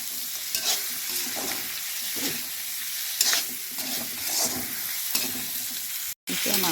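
Duck meat sizzles in a hot pan, loud and close, while a spoon stirs it in repeated scraping strokes. The frying pauses in a brief cut of silence near the end. No one speaks.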